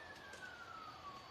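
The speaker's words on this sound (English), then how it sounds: "a siren going past." An emergency vehicle siren sweeps past at a distance, its single gliding wail faint and slowly falling in pitch against steady background noise.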